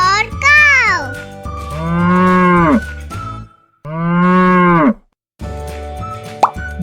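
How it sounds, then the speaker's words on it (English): Cow moos in a children's alphabet song, several long, loud, close moos separated by short silences, with a voice and a brief plopping sound alongside. "C for cow."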